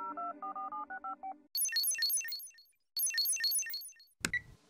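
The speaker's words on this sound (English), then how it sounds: "I'm going to FaceTime him." Phone dialing tones for a FaceTime call in the South Park: Phone Destroyer game: a run of short, evenly spaced dial beeps, then two bursts of bright warbling ringing, ending in a sharp click and noisy tail.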